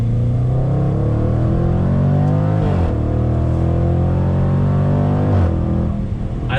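A 2020 Jaguar F-Pace SVR exhaust roars loudly as the SUV accelerates, engine pitch climbing steadily, with two sharp breaks where it shifts gears and the note drops before rising again.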